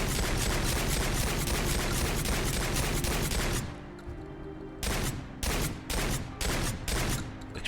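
A homemade assault shotgun in Fallout 4 firing full auto in a sustained rapid roar for several seconds, then a pause and a series of short, loud bursts.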